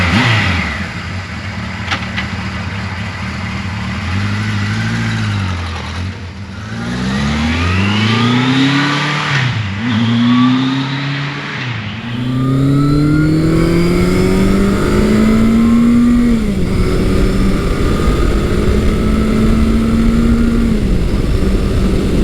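A 1979 Kawasaki KZ1000 shaft-drive motorcycle engine under way, rising and falling pitch through repeated gear changes, loud and close with steady wind roar throughout.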